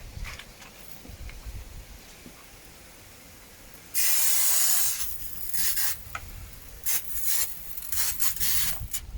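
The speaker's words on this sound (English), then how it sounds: "I'm going to try to spray the vinegar on there and see if that makes a difference" A pump sprayer hisses vinegar onto water-damaged stairs in a long steady burst, followed by several shorter spurts of spray, with faint scraping and rubbing underneath.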